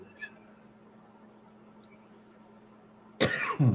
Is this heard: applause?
no